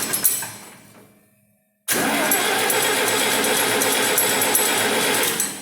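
A Farmall 706 tractor engine fitted with a decent muffler fades from a prior rumble into a brief silence, then catches abruptly and runs loud and steady, a dense close-up mechanical roar that holds until the end.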